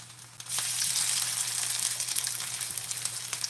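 Vegan Salisbury steak patties fry in a hot skillet, a steady broadband sizzle that jumps up suddenly and then holds loud with crackling spatters, under a low constant hum and no talking.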